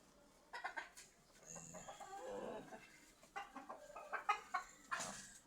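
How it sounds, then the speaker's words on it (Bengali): Chickens cluck and squawk in irregular bursts, close by, with a low background hum. "এই যে আমার ফার্মি মুরগিগুলো।"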